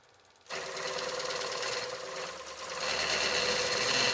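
A wood lathe spins a spiral turning while a boring bar hollows it through the shoulder, giving a steady close cutting and whirring noise that begins abruptly after a half-second and grows louder toward the end.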